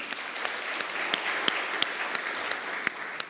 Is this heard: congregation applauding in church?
yes